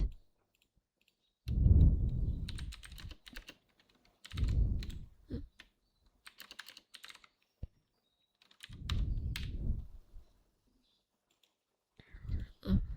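Code is typed on a computer keyboard in short bursts of close, quick key clicks separated by quiet pauses, with no one talking over them.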